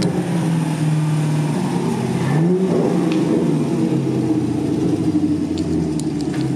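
A tuned Chevrolet Camaro 1LE with a full bolt-on kit and muffler delete idles loudly, then gives a quick rev, a close, constant deep rumble with no talking.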